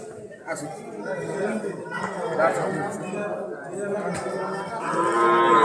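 A calf moos at a busy cattle market, its calls rising out of steady crowd chatter and nearby voices.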